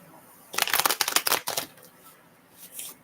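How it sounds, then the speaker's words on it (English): A deck of tarot cards is shuffled close by in a quick riffling burst of crisp slaps lasting about a second, followed by a softer shuffle near the end. "they're telling me don't do too much shuffling"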